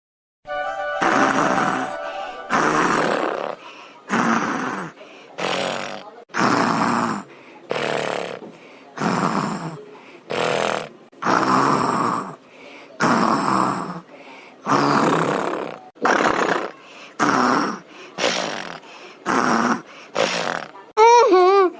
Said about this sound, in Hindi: ऐसन खर्राटा ये सब जनी मारत हैं दादा कि हमरे तो नींद नहीं आवत